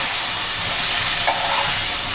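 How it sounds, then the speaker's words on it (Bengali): Pomfret fish lightly shallow-frying on one side in a pan gives off a steady, dense sizzle, close and continuous throughout. "এই পাশে একটু ভেজে নিচ্ছি।"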